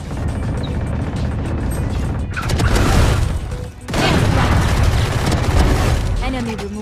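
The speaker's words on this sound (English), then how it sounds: "Flashbang." A flashbang grenade goes off in a tactical first-person shooter, a loud booming burst amid dense gunfire and game effects, with a second blast-like swell following a brief dip.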